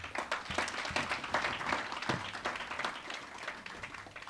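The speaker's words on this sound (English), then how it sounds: "Let's clap hands once more." Lecture audience claps hands in a brief burst of applause, close and fairly loud, individual claps audible within the crowd before it tapers off slightly toward the end.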